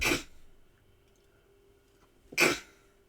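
Two sharp, forceful bursts of a human sneeze, one at the start and one near the end, close and loud with a quiet room in between.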